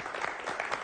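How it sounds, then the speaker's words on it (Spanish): A short burst of audience applause for the staff of a Venezuelan digital news outlet during a talk show, a brief patter of claps under a moderate level. "Pido un aplauso para los trabajadores de La Iguana y un aplauso."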